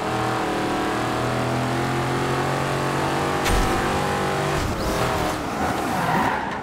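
Lamborghini Countach engine in Forza Horizon 2, droning steadily with shifting revs throughout and a burst of tire skid and squeal toward the end, loud and close with no talking.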